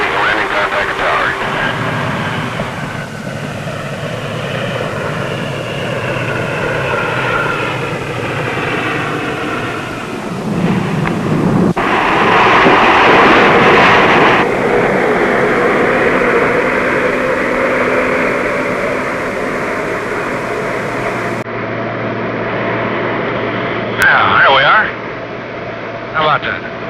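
An aircraft's engines drone steadily as it lands on the South Pole skiway, loud and continuous, with the pitch shifting partway through and voices talking over it.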